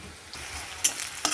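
Onions frying in a pan for a Bengali bhola fish curry, a steady soft sizzle with scraping stirs and two sharper bursts, no talk.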